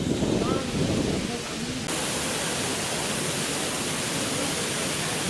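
Steady broadband splashing of an illuminated fountain in Stefan Stambolov square in Bulgaria, a continuous rushing wash of falling water at moderate level, with a brief shift in texture near the start.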